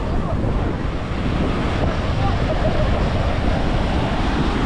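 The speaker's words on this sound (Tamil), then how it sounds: "அந்தளவுக்கு கடலில் வந்து பார்த்திங்கன்னா காற்று அந்தளவுக்கு அடிச்சிட்ருக்கு கடல் பக்கத்தில்" Strong wind buffets the microphone by the sea, a steady broadband roar with surf underneath, loud and continuous throughout with no voices.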